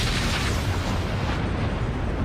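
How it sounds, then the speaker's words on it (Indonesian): A big explosion in an animated fantasy story, a dense continuous roar of rumbling low end and broad hiss, loud and sustained throughout with no talk over it. "terjadi getaran hebat, bahkan kali ini disertai dengan ledakan besar"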